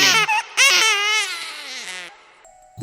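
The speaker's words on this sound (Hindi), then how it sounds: "उनको फिर से मेरे रोने की आवाज सुनाई दी।" Baby crying used as a sound effect in an animated horror story: a close, loud infant wail in drawn-out, wavering sobs with brief breaks, fading to near silence before a short sound at the end.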